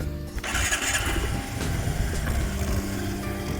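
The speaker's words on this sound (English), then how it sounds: "Let me just start up the scooter for you" An Aprilia SXR 160 scooter engine cranks and catches, then settles into a steady, close, buzzing idle that carries on alone throughout.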